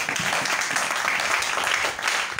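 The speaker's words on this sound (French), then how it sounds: "Acclamons le Seigneur pour cette parole." A church congregation breaks into sustained applause, a dense, steady wash of many hands clapping at once, with voices faintly mixed in.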